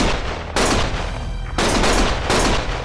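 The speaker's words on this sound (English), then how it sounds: "Stop shooting!" Gunfire in the Lost Judgment video game, loud close bursts of rapid shots with a short pause between them, and no talking over the shooting.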